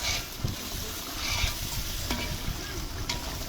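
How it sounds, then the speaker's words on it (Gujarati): Dal tadka being tempered in a pan at an ashram kitchen: a continuous, fairly loud sizzle and crackle with a few scraping stirs, without speech. "ચલો દાળનો વઘાર તડકા."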